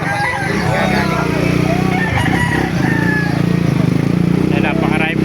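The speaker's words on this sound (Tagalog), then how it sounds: "Napakarami pong manok dito mga kamaster." Chickens cluck and a rooster crows amid a loud, busy crowd with people talking and an engine rumbling nearby at a chicken market in Calumpit, Bulacan.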